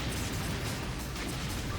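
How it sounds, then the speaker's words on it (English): A bomb going off in the Sega Dreamcast shoot 'em up Karous, a dense, low rumbling blast that roars steadily throughout without break. "I'm just going to have to keep using my bombs if I have them."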